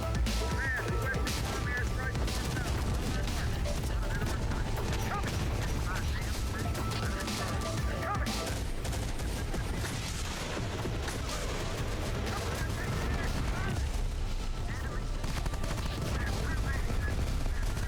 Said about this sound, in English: A-10 bombing run.